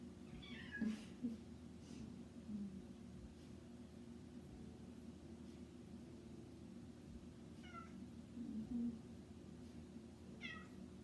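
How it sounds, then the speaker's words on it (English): A house cat meows several times during a quiet home yoga session, with short rising calls near the start and again around the middle and end, fairly close but soft over a steady low background hum. "This is my cat Bauer joining me here."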